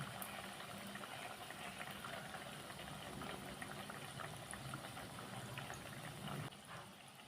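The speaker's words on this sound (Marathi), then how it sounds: "आपण एकदम मंद गॅसवर आता तळून घेऊया चकल्या" Chakli made from rice and poha fry in oil over a low flame, giving a continuous, soft bubbling sizzle at close range with no voices. The sound thins slightly in the last second.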